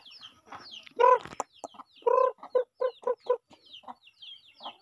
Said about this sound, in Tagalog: Tawagin natin yung mga manok natin dito guys.